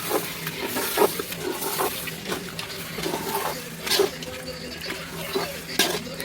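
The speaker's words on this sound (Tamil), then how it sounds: "சிக்கனை சேர்த்து வச்சு நல்லா கிளறி விட்டுக்கலாம்." Chicken pieces stirred into cooked masala in a pot for biryani, giving irregular scraping and clinking of a spoon against the pot with soft wet shuffling, moderately close and steady over a low background.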